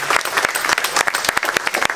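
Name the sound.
audience applause at a beat camp event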